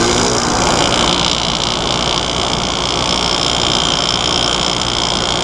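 An air conditioner with a Macmillan-type compressor and a Lakewood-style box fan motor runs on high cool, giving a loud, constant whirring hum that stays even throughout.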